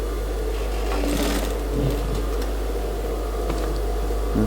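A sewing machine stitching a women's suit hums continuously and close under a steady low mains drone, with faint clatter over the top.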